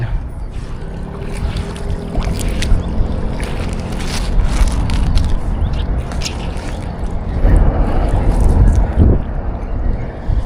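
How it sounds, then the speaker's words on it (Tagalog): Strong wind buffets loudly by the shore, with gusty rumbling and water sounds swelling louder toward the end. "Naku, papunta dito yung hangin pala."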